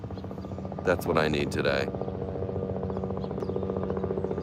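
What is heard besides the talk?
tourist helicopter flying overhead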